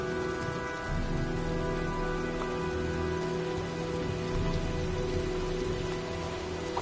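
Steady rain and storm ambience from the video game Heavy Rain, a dense, continuous hiss of downpour with a low rumble underneath, holding evenly throughout.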